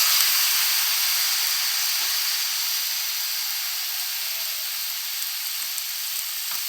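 Cut pumpkin, sweet potato and okra pieces sizzle steadily in hot oil in a pan, a close, continuous bright hiss with no talking.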